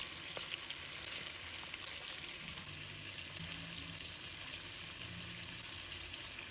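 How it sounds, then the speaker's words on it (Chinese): Chicken wings pan-frying in oil over medium-low heat, a soft, even sizzle that crackles steadily and quietly throughout with no voices. "将鸡翅煎至一面金黄之后，可以用筷子翻过来煎另一面。"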